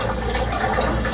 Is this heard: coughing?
no